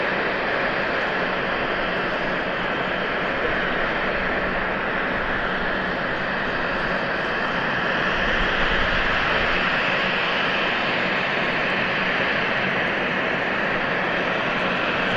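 A TAP Air Portugal airliner departs Manchester Airport for Lisbon, its jet engines giving a steady, broad roar that holds at an even loudness throughout and swells slightly near the end, with no voices.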